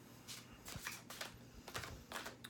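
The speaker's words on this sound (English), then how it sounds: "I'm going to do a slow shuffle and then split the deck." Tarot cards are shuffled slowly in a few soft, papery bursts, close by and quiet, with short pauses between riffles.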